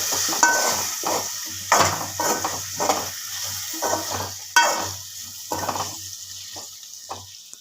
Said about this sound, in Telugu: ఇప్పుడు నేను ఇందులో శామగడ్డలని వేసుకుంటున్నాను ఇవి ఆయిల్లో మంచిగా ఫ్రై కావాలి